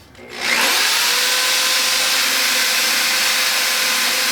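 A power drill bores out and enlarges a bolt hole in a Harbor Freight welding cart, spinning up in the first half second and then grinding steadily and loudly through the metal without letup.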